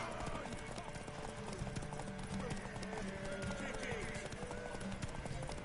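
Steady clip-clop of horse hooves with a horse whinnying in The Witcher 3 video game, with faint background voices.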